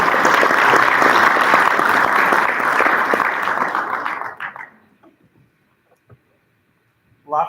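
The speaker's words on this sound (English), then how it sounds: "Another round of applause for Kimberly" A school board meeting crowd gives a student of the month a round of applause: loud sustained clapping for about four seconds, then it dies away into near silence with a brief sound at the end.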